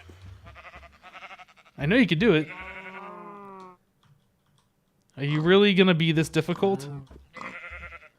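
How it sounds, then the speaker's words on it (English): Sheep in Minecraft bleat in two wavering bursts with pauses between, alongside light clicking, while a person talks over them. "Sheep."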